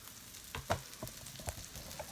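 Mushroom and bean burgers frying in a pan, giving a quiet, steady sizzle broken by small irregular pops and crackles, with no one talking.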